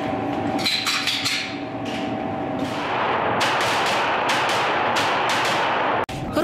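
Gunfire from Rosgvardia personnel in Khakassia practicing shooting accuracy, a series of sharp cracks in irregular bursts, some spaced and some in quick succession, over a steady background noise with an outdoor, echoing feel.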